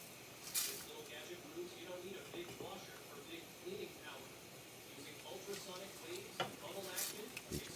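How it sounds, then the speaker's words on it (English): Rice being stirred in a pan for Mexican white rice with veggies, with a soft sizzle under quiet, continuous scraping and occasional light clinks of a utensil, heard close but faint. "I'm stirring to get the heat even."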